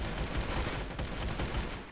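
Pistol gunfire in the Roblox game Arsenal, heard as a dense stream of rapid shots close together in quick bursts over a noisy, busy game mix, fairly quiet overall with no talking.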